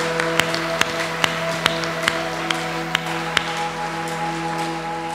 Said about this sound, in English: Let's give a mighty, mighty clap to the Lord.